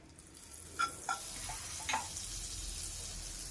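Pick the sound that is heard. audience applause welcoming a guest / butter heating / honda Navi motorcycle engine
butter heating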